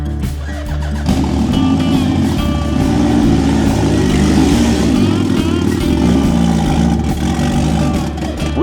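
A turbocharged Suzuki Hayabusa motorcycle engine runs on a dyno, a loud, steady low rumble holding throughout with rising intensity midway, dense harmonic drone close and continuous.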